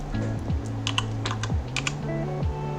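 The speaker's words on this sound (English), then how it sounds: "Oh, my keyboard." Someone types on a computer keyboard in quick, uneven bursts of key clicks, heard close up over a steady hum with tonal background sounds.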